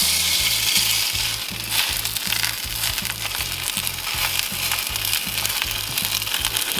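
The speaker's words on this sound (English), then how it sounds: "Now let's drop in our steaks." Steaks sizzle loudly in a hot oiled pan, a dense, steady crackle and hiss with a rhythmic low thumping underneath, close up and without voices.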